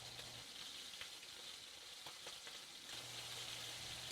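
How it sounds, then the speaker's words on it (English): Scallops sear in a hot pan with a steady, close frying sizzle and faint crackles throughout, with no voices. "Janine is going to turn them and will sear them for about the same amount of time."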